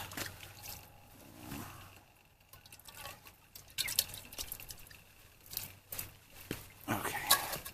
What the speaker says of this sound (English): I'm going to take a little bit of water, just rinse this out.